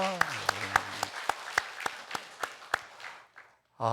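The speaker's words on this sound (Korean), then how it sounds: "다시 한번 박수로 격려하겠습니다" A church congregation at a Sunday worship service claps in steady unison, about a dozen evenly spaced claps that fade out, followed by the start of a voice.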